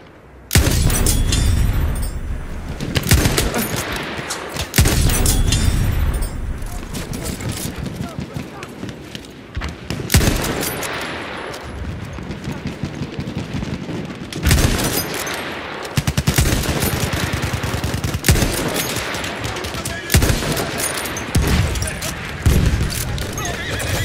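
Machine gun fire on a World War I battlefield in Battlefield 1, loud bursts mixed with booms, horse whinnies and hoof clatter, while soldiers shout orders over the din.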